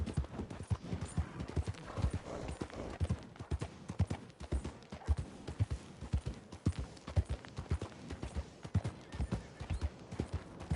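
Rapid clip-clop of horse hooves in the video game Red Dead Redemption 2, a continuous galloping rhythm, close and fairly loud throughout with no voices.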